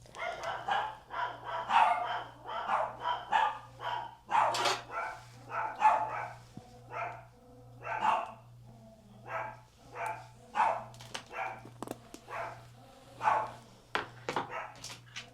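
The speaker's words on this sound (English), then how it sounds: "They're barking at something." Dogs bark repeatedly in short bursts at a steady pace, fairly close and clear, with a low constant hum running underneath.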